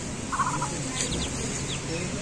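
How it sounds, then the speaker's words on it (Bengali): Chinese ducklings feeding and drinking on a farm give a quick run of high, soft peeps, then a few brighter chirps, over a steady hiss of background noise. "চীনা হাঁসের বাচ্চা এগুলো খুব সুন্দরভাবে খায়, পানি খাচ্ছে।"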